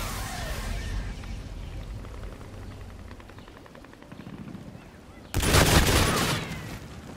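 In the Call of Duty: Infinite Warfare video game, an artillery bombardment rumbles and crackles with distant gunfire and a hovering aircraft drone, then a loud explosive blast erupts near the end.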